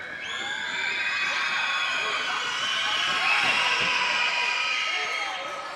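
A crowd roars and cheers continuously at a high school boys basketball game, Fairfield Woods vs. Tomlinson, at a blue-out night, the loud sustained cheering swelling slightly midway, with a commentator talking over it.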